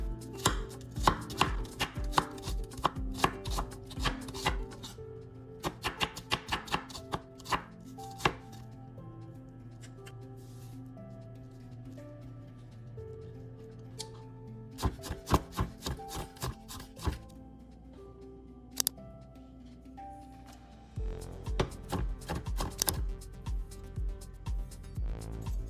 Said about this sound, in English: I've got a shallot here and I'm gonna finely mince 1/2 cup.